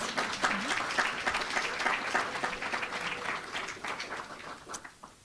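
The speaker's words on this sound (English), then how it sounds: "We can give Aliyah another round of applause." Applause for a student at a university alumni awards event, a roomful of hands clapping steadily at moderate distance, tapering off toward the end with a few faint voices underneath.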